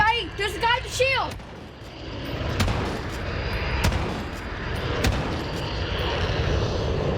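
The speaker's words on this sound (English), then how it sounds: "Oh, that's the Harrier shooting at me." Gunfire from a Harrier jet in a shooter video game, a roaring broadband rush with sharp scattered impacts, heard after a brief burst of speech at the start.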